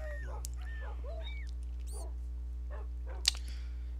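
Minecraft dogs whimpering and yipping in short, high, separate bursts over a steady low hum, with one sharper bark near the end; faint, with no talk.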